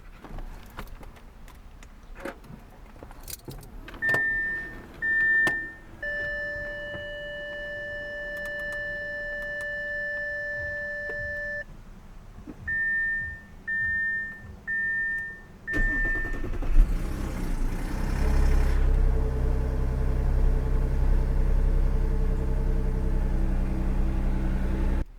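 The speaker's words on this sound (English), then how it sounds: "let's go ahead and fire up the car again" A 2012 Audi A7 starts after a few electronic chimes and beeps, then settles into a steady, close idle with a low rumble that runs to the end.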